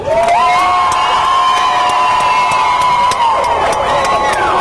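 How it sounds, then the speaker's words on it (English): A large crowd roars and cheers loudly and continuously, with high sustained shouts and scattered claps throughout. "if you're going to shout or clap, shout or clap"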